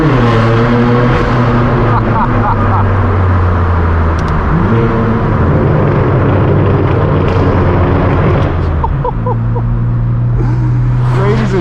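A straight-piped BMW M4 F82 roars loudly while driving, its harsh exhaust droning continuously and rising and falling with throttle changes, heard from close by the whole time.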